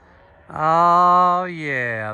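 A big cow herd being gathered off a river lets out one long, loud moo, harmonic and sustained for about a second and a half, rising in pitch toward the end, with no talk over it.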